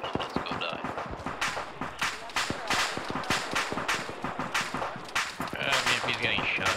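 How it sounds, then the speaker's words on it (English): Gunfire crackles around a BMP armored vehicle in Arma 3, with rapid irregular shots near and far in a dense, continuous barrage as a voice talks alongside. "BMP's getting shot at"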